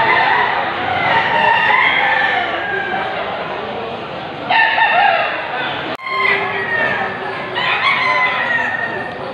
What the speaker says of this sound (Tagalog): Ayan po yung mga manok dito pa.